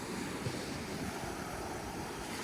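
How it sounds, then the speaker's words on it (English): Waves roll in at a long boat ramp with a floating dock at Poole Creek Campground in Oregon's Umpqua National Forest, giving a constant, soft wash mixed with wind noise and no voices. "there were some waves coming in when we were filming this"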